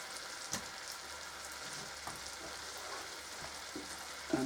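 Bacon fries in a pan with a soft, continuous sizzle and light crackle, a few faint pops and a brief knock near the end, quiet and close with no voices.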